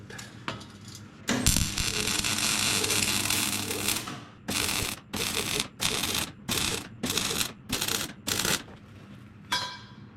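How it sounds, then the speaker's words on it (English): An angle grinder works on a custom bull bar for a Subaru. A long, loud, continuous grind is followed by a series of short, evenly repeated bursts of grinding, all close by. "the angle grinder is going to do the trick"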